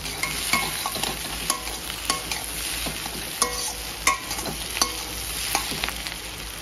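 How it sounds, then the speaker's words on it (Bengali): Potatoes frying in a pan with a ginger and cumin paste, a steady sizzle broken by repeated scraping and stirring clicks of a spatula, close and fairly loud with no talk. "এখন এই মশলাটা দিয়ে আমি আলুটা ভাজা করে নেব"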